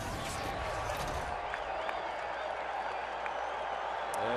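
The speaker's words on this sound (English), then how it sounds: "And an energetic sellout crowd here at Miller Park." A sellout baseball crowd at Miller Park in Milwaukee applauds and cheers in a steady, distant roar that fills the stadium, with a few sharper claps and whistles standing out.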